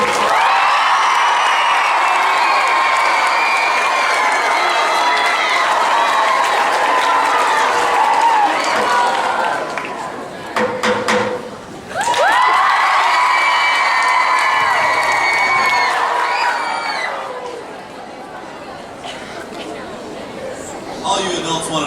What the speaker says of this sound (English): can I give a giant round of applause for Chris Harris?